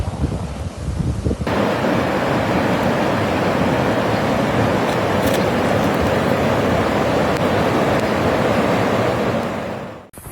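Floodwaters of an overflowing river in South Africa's Western Cape rush beneath a bridge, a dense, loud, unbroken roar with wind buffeting the microphone, cutting off abruptly at the end.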